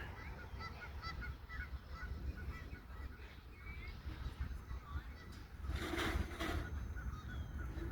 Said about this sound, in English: Got some geese over there, enjoying their best life.